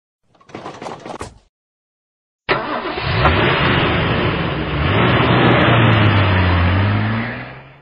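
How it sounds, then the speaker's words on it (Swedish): A car engine revs up loud and close, its pitch climbing steadily over several seconds as it accelerates, following a short separate sound and a moment of silence. "Bil."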